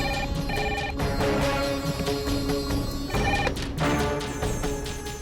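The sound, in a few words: telephone ringing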